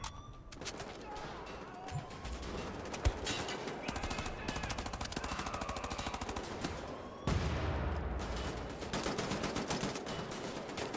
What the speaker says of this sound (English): Bullets flying in air.